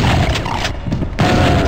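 A Doom 64 video game shotgun fires with a loud, sharp boom that rolls into a short burst, then another blast lands near the end, dense and close.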